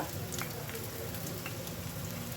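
Chopped onion frying in hot coconut oil in a pan, a faint, even sizzle with a light crackle running through the short stretch.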